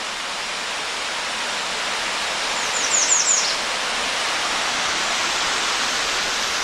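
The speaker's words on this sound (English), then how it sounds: "there is another like mini cascade down there," Continuous rushing water from a small cascade at Overall Run Falls in Shenandoah National Park fills the scene, a broad steady roar with a brief high chirp in the middle.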